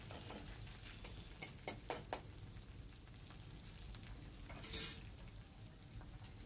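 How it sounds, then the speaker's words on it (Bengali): Spices fry in hot oil in a pan for spinach ghonta, giving a faint steady sizzle with a few sharp spoon clicks and scraping stirs, heard close and without talking. "সেই জন্যই কিন্তু তেলে একটু মশলাটাকে ভেজে নেওয়া হয়।"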